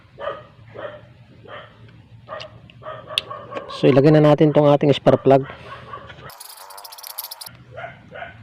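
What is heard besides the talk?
dog barking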